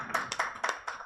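A few quiet, sparse claps from the audience at an environmental, social and governance awareness session. About four crisp hand claps come in quick succession and sound fairly faint.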